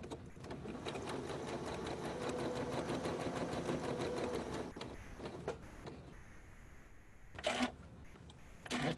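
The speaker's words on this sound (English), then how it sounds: "I'm going to go over to the sewing machine right now and sew a 1/4 inch all the way around" A sewing machine stitches a quarter-inch seam around a quilt block in a fast, steady rhythm for several seconds, then stops, followed by a few brief clicks and shuffles.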